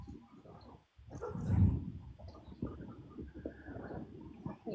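A dog outdoors making low, rough barks and whimpering sounds at a distance, uneven and fairly quiet, with one louder, deeper burst partway through.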